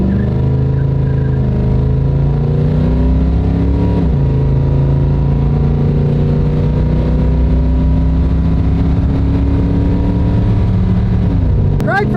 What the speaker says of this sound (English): Nothing beats that V8 sound.